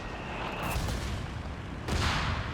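Mortar and artillery fire boom in the World War II strategy game Company of Heroes 3, with a dull launch thump, rumbling battle noise, and a sharp blast near the end.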